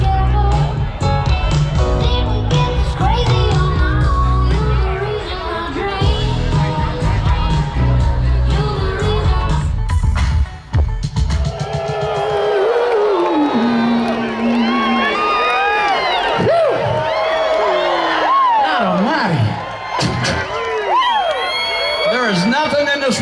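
Festival crowd at the Tampa Bay Margarita Festival over Memorial Weekend, loud and continuous, with music in the first half, then cheering, whoops and shouts with voices talking throughout.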